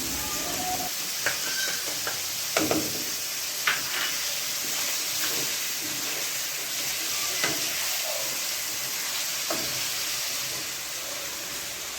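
Chicken sizzles and fries in a pan after salt is added, a steady broadband hiss with scattered crackles and pops and a few clinks and stirring knocks, moderately close, no one speaking.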